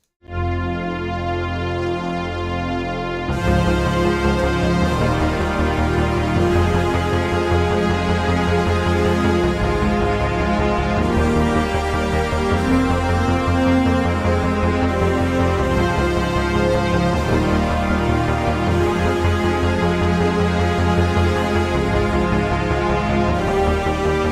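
Loud, dense orchestral music with brassy trumpet-like tones over sustained layers; it starts thinner and swells fuller after a few seconds, playing continuously.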